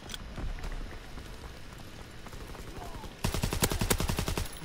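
Standard Sten submachine gun in Call of Duty WW2, a sustained rapid burst of automatic fire near the end, loud and close after quieter gameplay noise.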